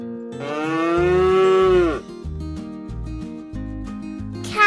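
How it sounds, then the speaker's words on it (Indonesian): A cow gives one long, loud, rising moo lasting nearly two seconds, followed by a rhythmic, bouncy music backing. "Cow,"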